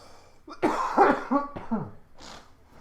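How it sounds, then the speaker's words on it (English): A person coughs a few times in a rough, throaty burst, followed by a brief throat clearing, close and moderately loud. "I got a cough again."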